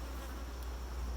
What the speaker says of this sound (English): Bees. Thief bees.